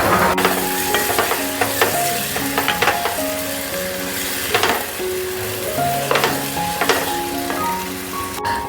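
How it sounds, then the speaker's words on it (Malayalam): Spice powders for fish biryani sizzle and fry in a pan while being stirred, a loud, continuous hiss broken by repeated scraping strokes of the spoon across the pan. "ഈ പൊടികളുടെ ഒക്കെ ഒരു പച്ചമണം വിടുന്ന വരെ നമുക്ക് നന്നായിട്ടൊന്ന് വാട്ടിയെടുക്കാം"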